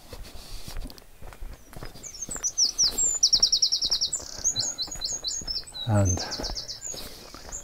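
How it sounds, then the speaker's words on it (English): Birds chirp and trill in rapid bursts nearby, with footsteps crunching along a path down to a spring in Lydford village and a brief spoken word. "can you hear the bird sound?"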